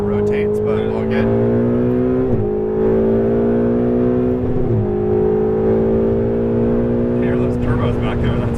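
A turbocharged Ferrari 488 engine drones at high revs on a race track, holding a strong steady tone broken by two quick gear-shift dips, while a driver talks over it.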